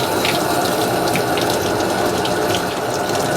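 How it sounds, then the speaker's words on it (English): Raw chicken being rinsed under a running kitchen tap in a sink, a steady close rush of water with faint splashing, no voices. "We're going to rinse this off over into our area."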